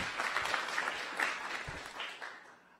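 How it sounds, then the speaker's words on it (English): An audience at a games event applauds the host and moderator, dense clapping at moderate level with a few sharper claps poking through before the sound tapers off toward the end. "a huge round of applause for our host and moderator for the night"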